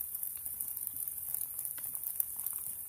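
Morning rain patters steadily outside, a soft, even hiss of small drops tapping continuously and fairly faint, with no voices.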